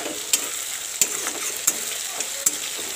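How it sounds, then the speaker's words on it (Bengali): Fish fries in a pan with a soft, continuous sizzle close by, broken by four or five sharp pops or utensil taps spaced about a second apart, with no talking. "তো এই তো মাছ ভাজা হচ্ছে আমার।"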